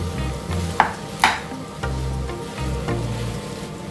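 A vegetable biryani mixture with paneer is stirred in a pan, with a few sharp scraping strokes of a utensil and soft, uneven shuffling between them, close and clear with no voices.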